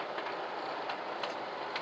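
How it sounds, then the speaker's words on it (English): Ken Kraft Alco FA-1 and FB-1 O scale model train running with American Model Toys passenger cars, a steady whirring rumble with a few soft clicks over track joints, continuous and moderately quiet. "We'll run the train again."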